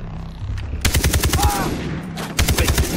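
Automatic weapon fire in the shooter game Far Cry 3: two rapid bursts of close, sharp shots separated by a short pause, loud and without speech.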